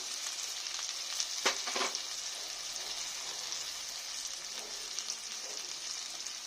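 Katla fish frying with onion and turmeric powder in a pan, an even, close sizzle with a couple of stirring scrapes early on and small crackles scattered throughout.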